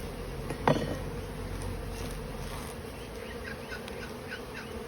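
Honey bees hum in a dense, steady drone close by while an Australian beehive is opened for a March inspection. A brief knock from handling the frames sounds near the start.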